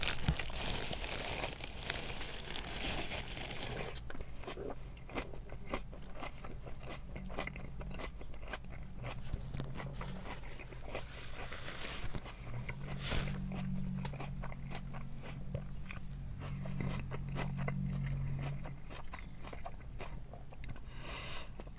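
Someone bites and chews a crunchy buffalo chicken wrap close up, with repeated crisp crunches and wet chewing over a steady background hiss.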